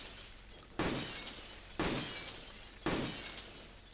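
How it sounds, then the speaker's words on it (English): In the Metal Gear Solid 4 video game, a V-ring ammo shot breaks glass. Three loud, sharp shattering crashes come at roughly one-second intervals, and each burst of breaking glass decays into a tinkling rattle. "V-ring ammo can still break glass."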